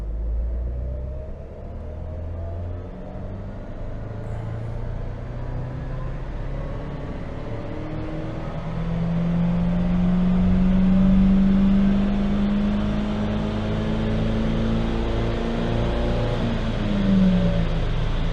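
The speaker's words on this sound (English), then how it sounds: "how high is it going to rev?" Citroen C4 'By Loeb' engine held at full throttle on a dyno, a loud continuous droning rumble whose pitch climbs steadily and then flattens near the top of the rev range, alone without talk.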